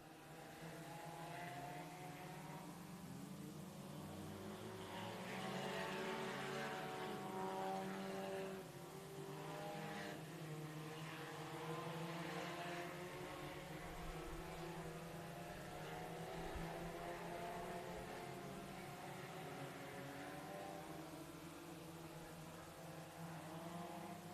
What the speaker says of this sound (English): Mark Earl, your leader down the back straightaway into turn 3 over the T34 of Michael Trammell